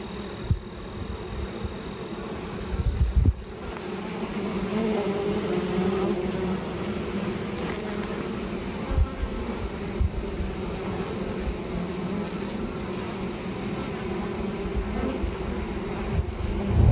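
A steady, low buzzing of honey bees at a hive fills the scene, close and continuous, with a few faint knocks and no talking.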